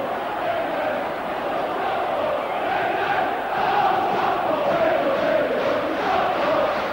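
Football fans behind the goal chant and cheer at a Blackburn Rovers versus Stockport County cup match in 1996. A dense, continuous crowd roar carries a rhythmic sung chant that swells slightly and stays loud throughout.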